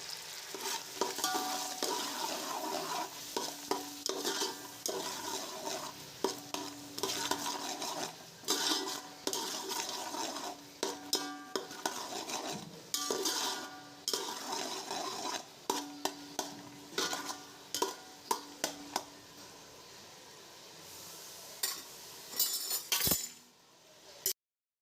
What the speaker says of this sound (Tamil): ஆல்ரெடி மிக்ஸ் பண்ணி வச்சுருக்கிற லெமன் ஜூஸ் ஆட் பண்ணி லோ ஃப்ளேமில் வச்சு நல்லா கொதிக்க விடுங்க